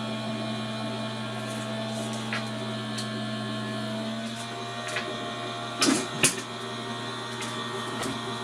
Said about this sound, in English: now just run it through my cutting back machine